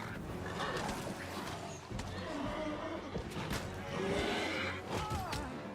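A horse neighs in the Wrath of the Righteous fantasy role-playing game, a drawn-out whinny set against clip-clopping hooves, game ambience and scattered thuds, fairly loud and without talk.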